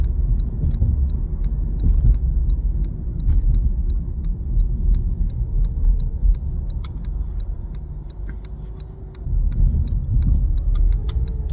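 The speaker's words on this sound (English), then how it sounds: "Now driving in a parking lot in a shopping center" Interior road noise from a car crawling through a shopping center parking lot in California, heard from a dash cam inside: a steady low engine and tire rumble with faint light rattles and ticks.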